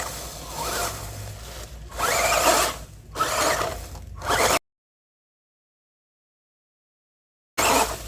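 An RC Dodge Charger's side plate scrubs against the tire, giving a loud, continuous whirring grind that swells and dips with the motor, cut off by a sudden silence before it briefly returns.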